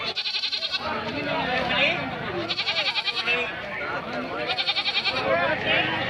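Several goats bleat in repeated bursts at a busy livestock market at Tumakuru APMC yard, close and loud over constant crowd chatter and voices.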